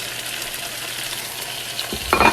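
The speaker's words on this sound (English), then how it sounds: "Now I'm going to add the tomatoes, all the spices." Onions fry steadily for chicken tikka masala, a continuous near hiss, then tomatoes and spices drop in near the end and the sizzle flares louder with a clatter of stirring.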